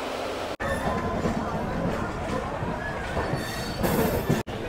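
A passenger train on an Indian route to Santiniketan runs steadily, its dense, continuous rumble and rattle heard from inside the carriage, with brief dropouts and no clear talk over it.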